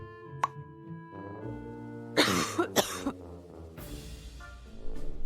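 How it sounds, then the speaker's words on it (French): A girl who is sick with a fever and sore throat coughs several times in quick, harsh bursts, close and clear, with quiet room tone between them. "parce que je tousse beaucoup."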